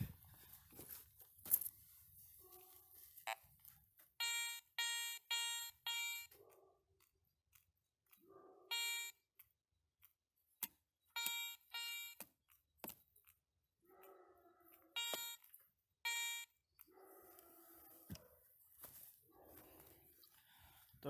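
Short bursts of a high, ringing electronic tone from a Garrett Ace 400i metal detector repeat in pairs and clusters over buried coins in soil, separated by quieter rustling and soft scraping.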